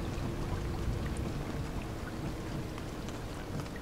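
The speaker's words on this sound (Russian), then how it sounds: "Ух ты, еще у нас и гроза" Steady thunderstorm rain pours in Proton Bus Simulator around a LAZ 695N bus, a dense hiss of drops with scattered sharper patters and a low rumbling undertone, continuous and without speech.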